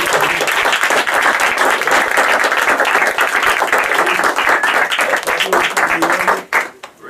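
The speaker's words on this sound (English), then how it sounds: "Let's give it a round of applause for every leader." A church congregation gives its leaders a loud, sustained round of applause, close and full, with clapping filling the room before tapering off abruptly near the end.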